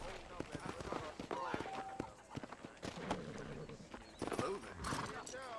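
Horse hooves clip-clop on the ground in Red Dead Redemption, a series of sharp irregular hoof strikes, with voices talking over them.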